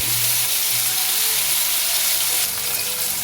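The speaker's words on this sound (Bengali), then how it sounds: "আলুটা আমি এখানে একবারেই ভেজে নিচ্ছি।" Potatoes frying in oil for a fish curry, a loud, steady, dense sizzle that stays constant throughout at close range.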